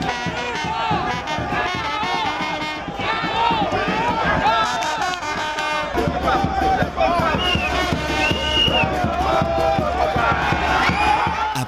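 A packed crowd at the Bloc Républicain headquarters erupts after the 2021 presidential election results, with loud, sustained cheering and chanting voices filling the whole stretch.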